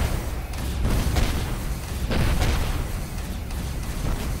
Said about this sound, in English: their turrets sound a lot different on shields